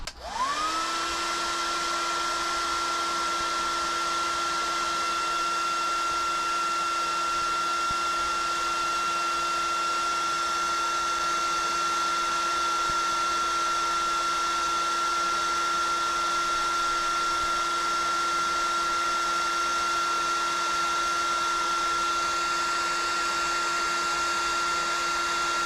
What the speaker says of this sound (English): I'm going to turn on the blow dryer